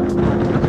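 Steady wind buffeting on a breezy winter day at Botany Bay, Australia, a loud, continuous low roar in a brief burst.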